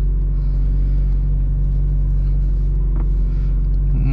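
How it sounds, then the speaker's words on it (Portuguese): Ferrari 458 Spider on a race track in race mode, a loud, steady, low engine rumble heard close up and continuous throughout, with no talk. "Vamos fazer a passada agora com a Ferrari 458 Spider."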